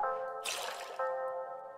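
A video game water-and-paint sound effect: a sustained musical tone broken by a splashy, wet burst in the middle, then the tone resumes, clean and close with no voices.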